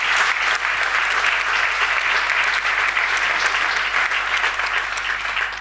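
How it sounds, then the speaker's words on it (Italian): An audience at an award ceremony applauds a professor, sustained dense clapping from many people that holds at a steady, fairly loud level for several seconds. "Professor Cannella, possiamo fare un applauso."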